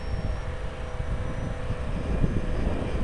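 A GWS Me 109 RC warbird plane runs at full throttle into a gusty 15-20 mph wind, a steady faint engine whine buried under heavy low wind rumble on the microphone.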